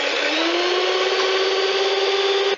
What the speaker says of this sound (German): Und zwar fangen wir an, uns Eischnee zu steif zu schlagen.